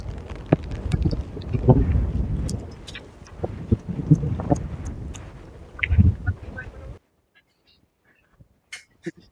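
Wind gusts across an open farm field, buffeting the microphone in rough rumbling waves with scattered clicks, then drops abruptly to near silence with a few faint knocks.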